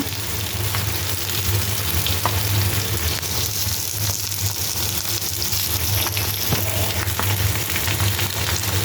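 Cut potatoes with turmeric, chili, cumin and coriander powder frying in a pan, a loud, dense, steady sizzle with crackling throughout and no talking.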